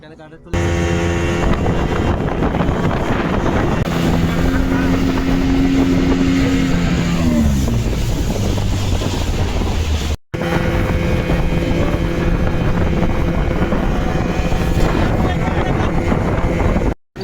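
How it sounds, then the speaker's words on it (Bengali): A speedboat ride from Cox's Bazar to Maheshkhali, with a steady loud engine drone and strong wind buffeting throughout, a falling engine tone partway through, and a brief dropout before the roar resumes. "এখান থেকে আমরা স্পিড বোট ভাড়া করে নিয়ে যাব মহেশখালী শুটিং বিচ।"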